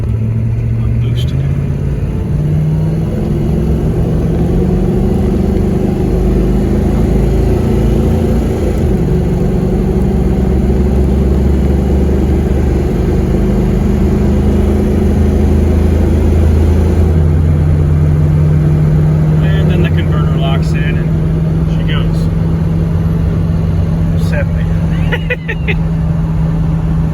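Diesel-converted Land Rover Discovery accelerating at about three-quarter throttle, a steady droning engine rumble that rises and shifts pitch through the gears, heard from inside the cabin.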